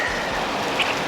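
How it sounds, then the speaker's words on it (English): Steady, dense rain pouring down nearby at an RV park in South Carolina, a constant hiss of drops hitting surfaces with no other sounds. "still pouring rain."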